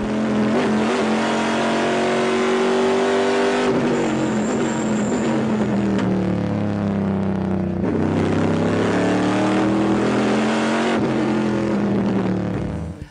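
Onboard sound from a Corvette race car lapping at night during the Sebring 12 Hours, engine loud and close, rising and falling through repeated upshifts and downshifts with sustained revving throughout.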